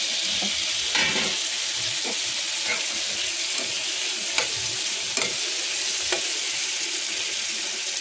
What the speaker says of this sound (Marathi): आपलं टोमॅटो पण चांगलं फ्राय होत आलंय.